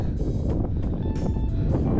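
Cold, steady wind gusts across a microphone on the Scottish coast along the NC500 route, a continuous loud low rumble with no break and no voices.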